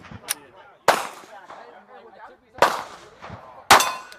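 Three sharp, loud pistol shots from a 48 handgun ring out at GunCon, spaced a second or more apart, with people talking quietly between the blasts.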